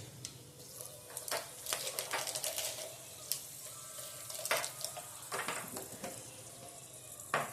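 Cloves and star anise sizzle in hot oil with a pinch of asafoetida for a Gujarati papaya curry, a light steady crackle broken by sharp pops and spatters, close and fairly quiet.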